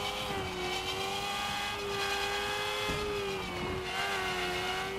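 A video game car engine drones steadily at high revs through a custom 4-speed gearbox with real-life ratios, loud gears, gear-shift dips and changes in pitch; no one talks.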